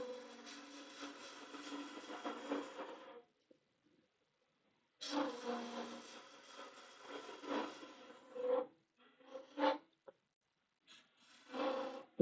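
A sharp blade drawn over wood to peel off shavings, heard as two long, steady scraping rasps at close range, then a few shorter strokes and brief scuffs.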